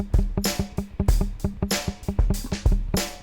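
Bass guitar runs a two-octave major and minor pentatonic scale exercise in triplets, each plucked note distinct in a steady, quick, even rhythm throughout, played alone at close range.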